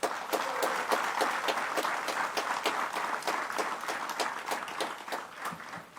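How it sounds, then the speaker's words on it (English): An audience at a Christmas lunch at a military base camp applauds steadily, a dense wash of many hands clapping throughout, moderately distant and fading slightly at the end. "let all of Guyana hear us applaud the Guyanese family of whom we are proudly a part of."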